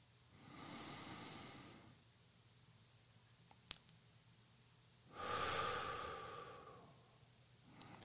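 Slow, deliberate breathing during a mindfulness concentration exercise: two long, airy breaths several seconds apart, close and quiet, with a tiny click between them.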